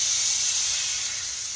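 A pork loin roast laid fat side down in a hot pan sizzles with a steady, bright hiss, close and loud, with no talking over it.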